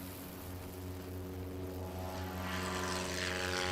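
A STOL airplane's propeller engine drones at takeoff power during a short takeoff competition in Clarion, Pennsylvania, a steady harmonic buzz swelling louder and brighter toward the end.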